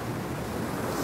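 Sea waves wash onto the shore in a continuous broadband roar, with wind noise mixed in and no voices.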